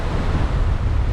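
Gusty wind buffets the microphone over the wash of waves on a sailboat at sea, roughly two-meter swells, a loud, continuous roar of wind and water with no voices.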